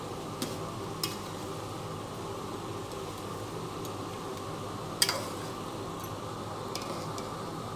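Crushed cumin and garlic hitting hot oil in a pan for crab curry, a steady even sizzle throughout with a few faint ticks and clicks, no talking.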